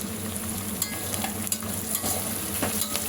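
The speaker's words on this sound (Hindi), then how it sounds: "हमारा प्याज अच्छे से ब्राउन हो रहा है धीरे धीरे।" Onions slowly browning in a pan for namkeen pulao, giving a steady low sizzle with occasional soft scraping clicks of stirring, close and alone without talk.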